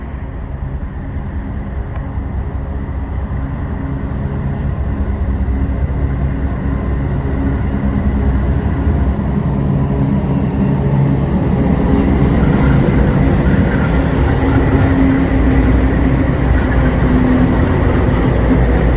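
A northbound CSX freight train rolls past, a steady loud rumble of wheels and engine noise that swells slightly and holds throughout with no talk.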